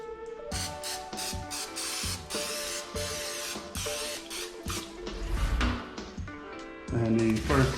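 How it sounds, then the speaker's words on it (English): Oil sprayed onto raw chicken wings in short hissing bursts, several quick sprays in an irregular rhythm, close and clear, with soft handling sounds between them. "we're gonna get our spray oil on the chicken wings to help that rub adhere to the meat."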